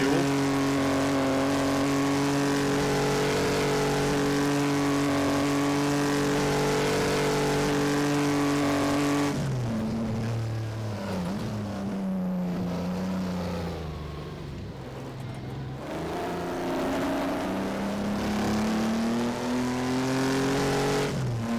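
Vintage 1937 Grand Prix race car engine in a racing game, a loud steady high drone that drops sharply midway, then revs and bogs through gear changes before climbing again, continuous throughout.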